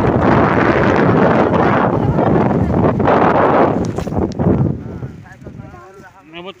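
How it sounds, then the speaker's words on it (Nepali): Strong gusts of wind buffet the microphone outdoors in a village, a loud roaring rumble that surges and then eases off near the end, with faint voices emerging as it fades. "अहिले ठुलो हावा छ क्या, अहिले हावा लाग्छ"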